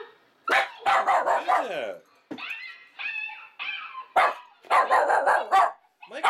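Shiba Inu dog barking in repeated loud bursts of sharp barks with whiny yips between, close to the mic, while someone talks to the dog.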